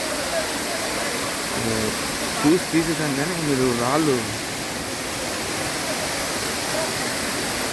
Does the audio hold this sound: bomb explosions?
no